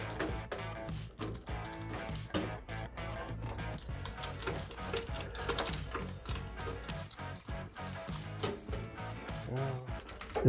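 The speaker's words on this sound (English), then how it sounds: "we'll just start screwing in the motherboard screws" Motherboard screws being driven into standoffs inside a roomy PC case, giving a quiet, busy run of small metallic clicks and ratcheting ticks that repeats steadily and close by.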